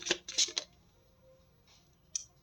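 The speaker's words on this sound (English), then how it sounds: "Let me get this shuffle together." A deck of cards is shuffled in a few quick, crisp riffling bursts close by, followed by a quiet pause and one last short flick.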